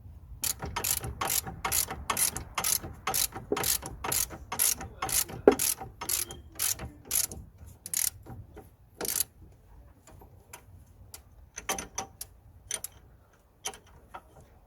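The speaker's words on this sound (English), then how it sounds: "So the next thing I'm gonna do is just gonna tighten these bolts." A ratchet tightens the strut bolts on a Nissan Note in a run of quick, sharp, evenly spaced clicks that stop, followed by slower scattered clicks and taps, close and fairly loud, with no talking.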